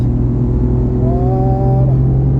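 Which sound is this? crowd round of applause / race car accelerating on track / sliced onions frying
race car accelerating on track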